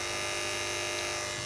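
A small battery-powered Navac vacuum pump pulls a vacuum on an AC line set through a Yellow Jacket 3/8 by 1/4 inch hose, producing a steady, buzzy electric whir that stays close and constant.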